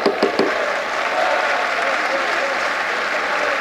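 Applause breaks out on the left-wing benches of the French National Assembly, steady and dense clapping filling the chamber at close range for several seconds.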